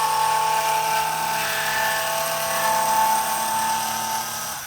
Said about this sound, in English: this is a power tool